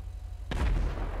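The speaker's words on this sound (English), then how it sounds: "he's shooting off some fireworks" Fireworks are shot off during a GTA 5 roleplay session, a single sharp loud burst followed by a sustained rumbling boom, heard alone without talk.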